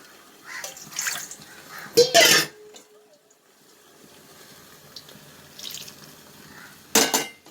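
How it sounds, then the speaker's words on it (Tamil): Water splashes and pours into a cooking pot of black nightshade greens in short bursts, a couple of brief louder gushes separated by quieter moments, close by with faint background noise. "இப்போ உடனே தண்ணி ஊற்றிடலாம்"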